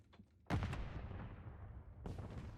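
In the Call of Duty MWIII match, a grenade explodes with a sudden, heavy boom and a long rumbling decay, and a second blast lands near the end, both fairly loud over quiet game ambience.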